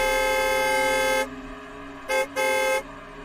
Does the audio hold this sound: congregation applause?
no